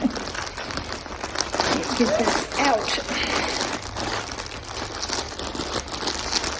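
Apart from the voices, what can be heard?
opening a Temu package with scissors, plastic crinkling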